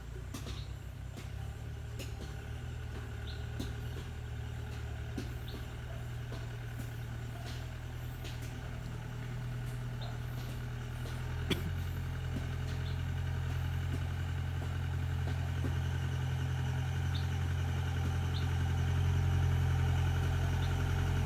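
A modified Mahindra jeep on off-road MT tyres rolls downhill on a rough track, its engine a steady low rumble that grows slightly louder toward the end, with occasional knocks and rattles.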